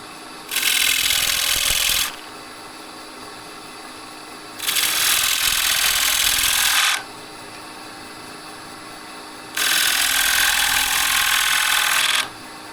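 A turning tool cuts the rim of an oak bowl on a lathe, three separate loud scraping passes of a couple of seconds each over a low steady motor hum.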